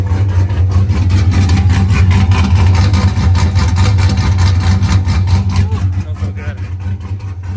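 Nissan S13 car engine running steadily at idle with a deep, loud low rumble throughout, a slight lift in revs near the end.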